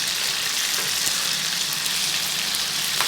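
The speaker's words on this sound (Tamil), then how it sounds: "நல்லா ஃப்ரெஷ்ஷான கருவேப்பிலையை இந்த மாதிரி ஆயிலில் போட்டு அது மேலே நம்ம சிக்கனை போட்டு வறுத்தெடுத்தோம்னா" Chicken 65 fries with fresh curry leaves in hot oil, giving a continuous, close, even sizzle with a bright crackling hiss and no talking.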